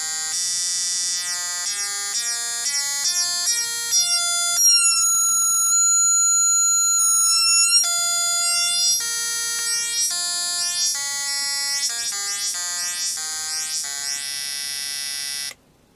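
An Atari Punk Console synth built from two NE555 timers plays buzzy square-wave tones that step through changing pitches, with some held notes and some quick bleeps, loud and alone until it cuts off abruptly.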